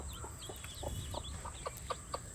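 A mother hen clucks softly beside newly hatched chicks, whose high peeps chirp repeatedly in quick rhythm, close and moderately loud, on a Kerala farm.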